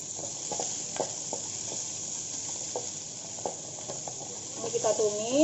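Finely chopped onions for oxtail soup sizzle in a pan, a steady frying hiss broken by soft scrapes and stirs of a utensil, close by, with a brief rising squeak near the end.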